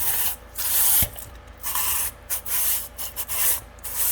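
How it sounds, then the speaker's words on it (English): Sandpaper rubbed back and forth across the brake surface of a Warn winch during a rebuild, a steady scratchy rasp that swells and fades in repeated strokes, close up with no talking. "put the sandpaper sticky side onto the brake surface"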